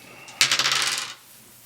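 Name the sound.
two dice rolled in Fallout Shelter board game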